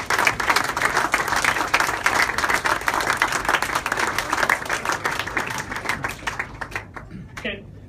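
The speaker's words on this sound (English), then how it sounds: "a round of applause for all of them" Audience applause for the winners at a sport leaders celebration event, loud dense clapping that holds steady and then thins into a few scattered claps at the end, with a voice briefly heard near the close.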